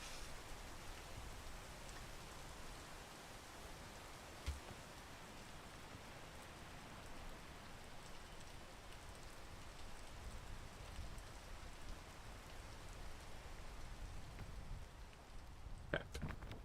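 Steady rain pours in the climbing video game Peak, a dense even hiss of drops holding at one level throughout, with a couple of faint clicks near the start and end and no one speaking.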